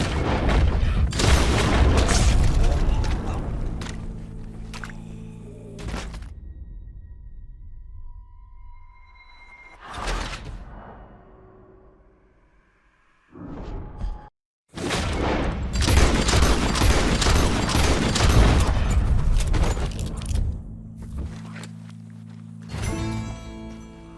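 Gunfire and booms in Red Dead Redemption 2, loud dense volleys of shots with reverberant tails, broken by quieter stretches of soft ambient tones and a brief gap before another heavy barrage.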